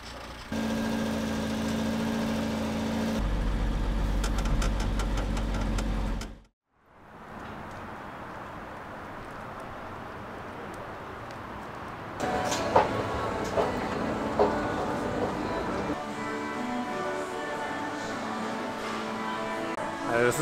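Engine of an expedition camper vehicle on the road in Turkey: a low droning hum with a brief dip partway through, then a rougher rattling drive with some clatter and light knocks.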